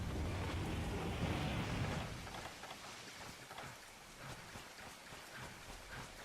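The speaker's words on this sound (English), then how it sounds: "I don't really mind having the rain sounds here. I like the sound of rain" Steady hiss of rain falling in the video game Monster Hunter Freedom Unite, a dense wash of drops that fades somewhat softer after a couple of seconds, with no talking.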